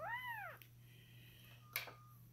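A newborn Maine Coon kitten being tube fed gives a loud, high, rising-and-falling meow at the start, then a faint short squeak later, over a steady low hum.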